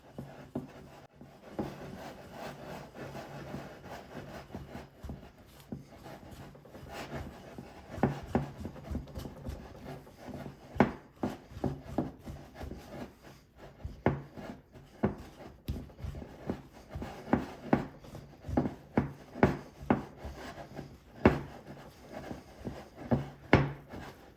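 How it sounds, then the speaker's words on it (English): Bread dough is scraped from the sides and bottom of a mixing bowl in soft, uneven rubbing strokes with small knocks, close and quiet, with no talking. "we'll scrape the sides and the bottom of the bowl to make sure everything is mixed"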